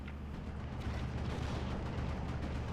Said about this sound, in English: mortar is engaging the 6-pounder